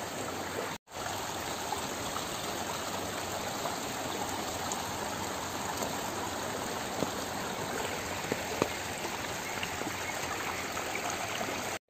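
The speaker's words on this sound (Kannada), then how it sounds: "ತುಂಬ ತೋರದಲ್ಲಿ ಹೋಗ್ತಾ ಇದೆ ಇವಾಗ ನೀರು." Rainwater rushes strongly and continuously through a farm channel, a dense, steady, close roar of flowing water. No one speaks over it.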